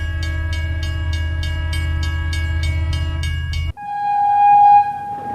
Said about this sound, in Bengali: রেল স্টেশনে পৌঁছানোর আগেই দেখি ট্রেন ছেড়ে দিল